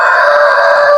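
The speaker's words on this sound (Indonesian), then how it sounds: "ini jago saya, ini jago andalan saya, ini sedang mengalami pilek ya teman-teman" A rooster with a cold and snoring breath gives a loud, close, sustained tonal call lasting about a second, with no talking over it.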